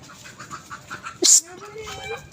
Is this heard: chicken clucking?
yes